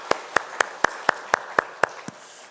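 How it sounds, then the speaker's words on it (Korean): Rhythmic unison clapping from a church congregation at a Sunday service, about nine evenly spaced claps that fade out at the end, with no voices over them. "하나님 앞에 영광의 박수 올려드리겠습니다"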